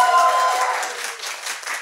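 A roomful of people at a talk on debt and money claps together briefly, a dense burst of applause that tapers off quickly.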